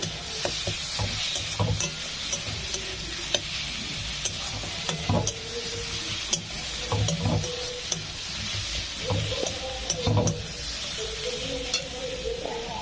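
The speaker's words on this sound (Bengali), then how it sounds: "এটা ভালো করে ভেজে নেবে পেঁয়াজটা" Onion with grated garlic frying in a pan, a constant close sizzle broken by repeated scraping stir strokes.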